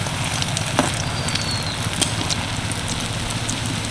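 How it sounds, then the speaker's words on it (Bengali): Soybean kofta balls fry in hot oil after being turned over, a continuous dense crackling sizzle with small pops, loud and close throughout. "প্রায় এক মিনিট মতো এক পিট ভেজে নিয়েছি এবার উল্টে দিলাম সবগুলো"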